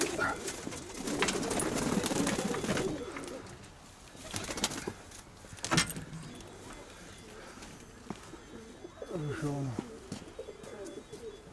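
Pigeons cooing in a dovecote, with soft throaty coos close by among rustling and shuffling sounds, and people talking at times.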